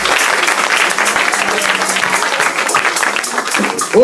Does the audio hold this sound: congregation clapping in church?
yes